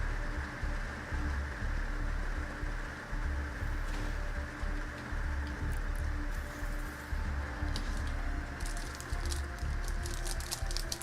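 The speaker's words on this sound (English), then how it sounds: "Can you hear this rain? It's mental." Heavy rain pours down in a dense, steady patter with irregular crackling drops, close and fairly faint, with no one talking.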